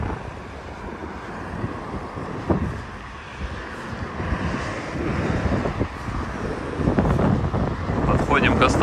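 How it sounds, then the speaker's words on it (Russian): Gusty wind buffets the microphone outdoors at a mountain resort near Sochi, with a rough rumble that strengthens toward the end, and faint voices are mixed in. "вот сегодня почему-то есть ветер"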